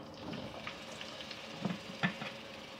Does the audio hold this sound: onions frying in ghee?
yes